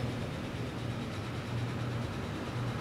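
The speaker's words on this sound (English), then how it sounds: "And there is one of our Grays to Dunwich trains." A train in the video game Transport Fever, a continuous low rumbling run with steady rolling noise and no distinct events, moderately quiet.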